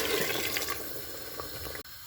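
Water pours into a cooking pot of meat curry (salan) in a home kitchen, a faint, steady splashing stream that cuts off abruptly near the end.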